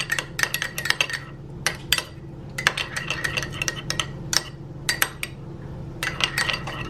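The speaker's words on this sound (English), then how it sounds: "just 1 tablespoon of water in here, and I am mixing it like this" Spoon mixing a tablespoon of water into sauce in a bowl, a steady run of close scraping clinks against the bowl sides in quick bursts with short pauses, loud and alone.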